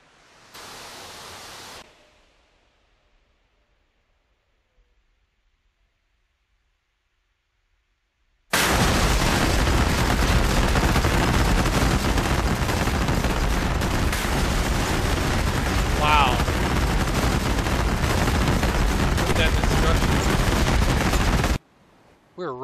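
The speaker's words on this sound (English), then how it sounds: "Detonation." A JSOW glide bomb detonates in a DCS World flight sim strike from an F-16 Viper: after a short noise burst and several seconds of near silence, a loud, sustained broadband roar of explosions fills over ten seconds before cutting off abruptly.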